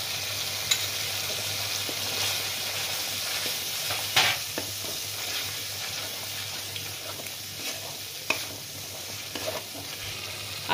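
Cashew and poppy seed paste is stirred into a frying spice masala for a parwal dish, giving a steady sizzle under repeated spoon scrapes and knocks against the pan, with occasional sharper clatters.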